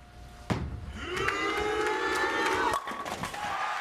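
Crowd at a 2008 professional bowling match between Norm Duke and Walter Ray Williams Jr. swelling into sustained cheering and chanting after a sharp slam, loud and continuous, then easing slightly near the end.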